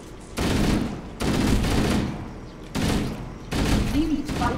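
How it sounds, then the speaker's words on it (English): Shotgun blasts from the Halo Anniversary video game, four heavy booming bursts in a steady rhythm, each loud and ringing out before the next, with no talk over them. "Thought I just got shot with a shotgun."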